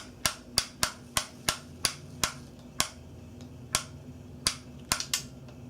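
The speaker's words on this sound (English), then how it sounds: "we'll just continue cocking all the way till we hear the big click" A 2018 TenPoint Stealth NXT crossbow's cocking mechanism gives off a run of about a dozen sharp, close mechanical clicks at an uneven ratcheting pace, with low background hum between them.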